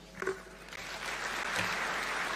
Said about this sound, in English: Let's give him a warm thank you clap.